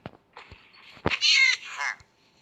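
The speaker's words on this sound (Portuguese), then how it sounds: "E também tem um gato." A cat meows in the Minecraft video game, a couple of short game-style mews rising into a longer, louder drawn-out meow, heard alone with no talk.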